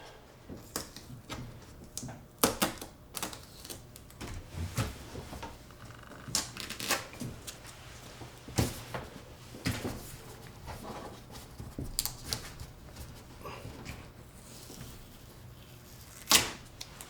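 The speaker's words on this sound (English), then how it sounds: "Pull off the old gaff tape." Old gaff tape being peeled off an iMac Pro in short, close, crackling pulls, repeated tearing snaps spread unevenly throughout at low volume.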